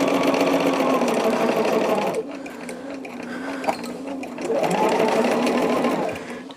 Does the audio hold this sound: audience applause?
no